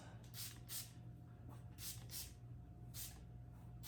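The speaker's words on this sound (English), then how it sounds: "start with the curl refreshing spray and just give her a few pumps" Quick hissing spritzes from a pump bottle of curl refreshing spray onto curly hair, fired in short pairs and single bursts over a low background hum.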